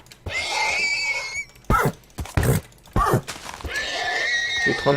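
Video game horses neigh several times in shrill, drawn-out whinnies, broken by sharp percussive hoof and hit sounds in between, loud and close with no talk over them.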